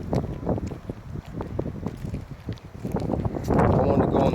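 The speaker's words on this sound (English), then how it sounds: "You feel that wind?" Wind blows outdoors on a nature walk, buffeting the microphone in gusts that swell louder near the end, mixed with talking voices throughout.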